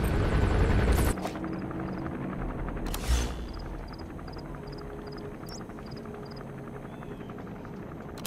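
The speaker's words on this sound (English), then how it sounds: "Chopper is gonna patrol for the security forces." Helicopter patrolling in the video game Metal Gear Solid V: The Phantom Pain, a loud, continuous rotor chop with a sharp burst near the start, then a steady thrum under small repeating game sounds.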